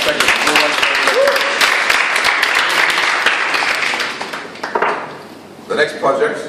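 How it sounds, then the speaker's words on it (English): Members of a Toastmasters club applaud a completed meeting segment, loud and dense clapping from a roomful of people that thins out and fades toward the end, with a few scattered claps and brief voices after. "Give yourselves a round of applause for that segment"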